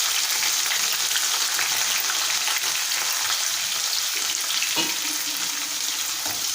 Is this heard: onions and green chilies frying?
yes